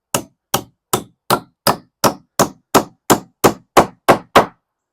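A hammer drives nails into 2x4 studs while framing an 8x8 shed wall, a dozen loud, sharp, evenly spaced blows ringing close by, then silence, with no voices.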